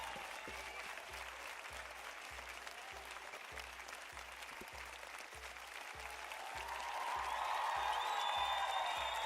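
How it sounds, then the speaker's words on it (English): A small online audience applauds after a participant named Josiah shares homebrew material during a live tabletop role-playing stream; steady, faint clapping continues throughout, swelling slightly toward the end. "Let's give Josiah a round of applause."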